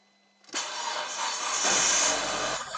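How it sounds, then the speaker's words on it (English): An Audi car engine cranks and catches, then runs with a loud steady roar for about two seconds before cutting off abruptly. "Let's start the engine for 2 seconds"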